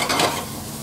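Garlic sizzles in a frying pan with spinach, grated nutmeg, pepper and salt nearby, a brief close hiss that swells at first and then settles into a steady fry.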